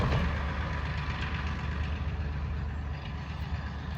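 A northbound Hamilton Northwestern Railroad train approaches with a steady, heavy low engine rumble that holds evenly throughout and fades slightly toward the end, with no horn yet.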